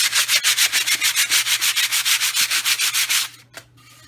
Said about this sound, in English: It sands very easily.